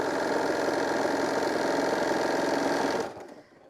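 A sewing machine runs a steady burst of stitching, going forward and back tacking along a seam for a quilt-style shoulder wrap, then stops abruptly near the end.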